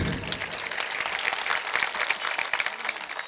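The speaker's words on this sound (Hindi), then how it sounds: "आपकी ताली क्यों कम बजी?" Audience applause at a Constitution Day public address in Bargarh, Odisha, with many hands clapping in a dense, steady patter that fills the whole stretch at moderate loudness, without any talk over it.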